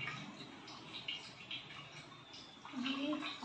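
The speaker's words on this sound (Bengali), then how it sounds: "গোপালকে স্নান করাচ্ছে।" Water poured over a small Gopal idol during a ritual bath, a soft, faint trickling and splashing that continues steadily with brief gurgles, with no talk over it.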